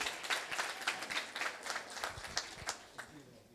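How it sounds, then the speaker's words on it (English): Round of applause from an audience at a township entrepreneurs' event, lively clapping that swells and then tapers off toward the end, with some faint voices mixed in. "I would like everyone here to give them a round of applause."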